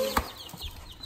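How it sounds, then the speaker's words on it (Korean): Young chicks kept free-range make soft chirps and clucks, with brief faint calls and a light rustle, fairly quiet and close. "병아리 맞아 이거?"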